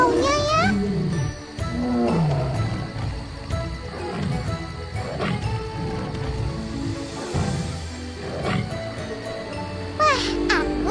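A tiger roars amid a busy, echoing wildlife-park atmosphere, with children chattering and voices throughout, plus light jingling and tinkling sounds near the end.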